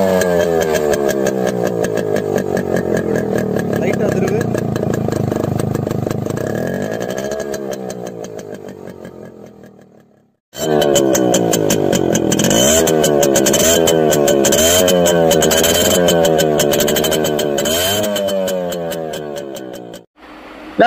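Yamaha RX100 motorcycle fitted with a Max100 silencer, its two-stroke exhaust beat loud and close as the engine revs up and down repeatedly, with one short cut-off near the middle and no talk.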